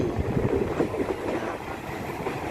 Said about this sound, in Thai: ตอนนี้ขบวนธรรมดาที่สองหกหนึ่ง ออกจากสถานีบางซื่อครับ